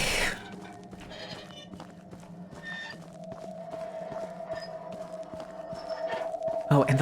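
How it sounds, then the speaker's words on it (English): Sheep bleating in a video game, a few short wavering calls over steady game music and ambient tones, with a louder burst near the end. "Yeah, there's the sheep."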